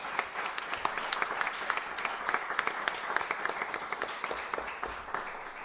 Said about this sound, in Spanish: Un fuerte aplauso a nuestros panelistas.